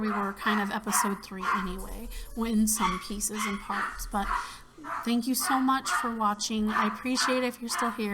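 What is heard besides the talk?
dogs barking because someone came home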